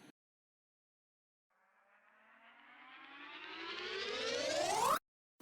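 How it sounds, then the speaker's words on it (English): A rising uplifter riser effect in a music mix sweeps steadily upward in pitch and volume for several seconds, then cuts off abruptly at its peak. "right here we have some uplifters"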